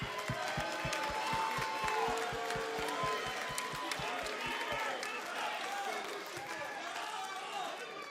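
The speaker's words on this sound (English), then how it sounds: "I want everyone to give Cezar a really big round of applause." A wrestling arena crowd applauds and cheers at an NXT event, a dense sustained roar under steady rhythmic low thumps for the first five seconds, holding loud then easing slightly toward the end.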